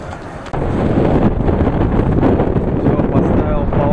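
Strong wind buffeting a microphone at an exposed campsite by the coast in Vietnam at night, a loud continuous rumbling roar that jumps up after a half second and holds steady.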